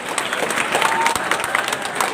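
Applause and crowd noise greet the opening of a grand hall at a village welcome for an education minister, a dense, steady clapping texture with cheering voices mixed throughout.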